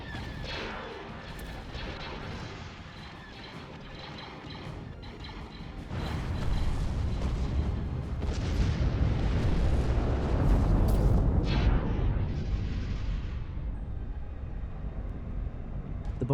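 Explosions and artillery fire pound a planet from orbit as an Imperial fleet bombards Inari, a dense booming barrage that rumbles steadily, then swells louder and heavier midway, with no voices.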